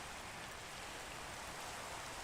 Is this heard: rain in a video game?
yes